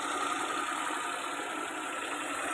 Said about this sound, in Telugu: ఇప్పుడు ఇంజిన్ ఆన్ చేశాను